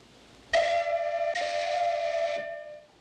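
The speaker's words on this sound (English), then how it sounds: "And if something gets in our way, we just blow the whistle." A loud steam whistle blasts twice in quick succession, the steady harmonic tone sounding close and strong and holding for about two seconds before it cuts off, with no talking.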